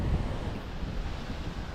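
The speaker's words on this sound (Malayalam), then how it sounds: "അങ്ങോട്ടൊക്കെ അതിഭയങ്കരമായിട്ട് കടൽ കയറിയതാ ഈ വീട്ടിലേക്കൊക്കെ വെള്ളം കയറിക്കൊണ്ടിരിക്കുക" Rough sea waves surge onto the coast during a strong sea incursion that floods nearby houses, a constant low roaring wash heavily mixed with wind rumble.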